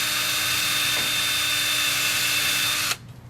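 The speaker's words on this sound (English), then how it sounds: "So now I'm just going to make the new pilot holes for the neck plate screws." A power drill whines steadily at close range for about three seconds, drilling pilot holes in a wooden guitar body for neck plate screws, then cuts off abruptly.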